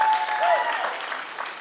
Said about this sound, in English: Can we give all of our students a huge round of applause?